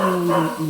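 A single close, loud dog vocalization, a tonal bark drawn out into a brief growling whine.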